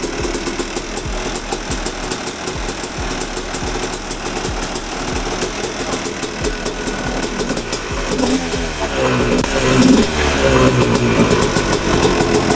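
A Yamaha YZ250 two-stroke dirt bike engine, freshly rebuilt, fires up and keeps running indoors, a loud steady buzzing drone with rapid pulsing that swells and revs higher near the end, with faint talk underneath.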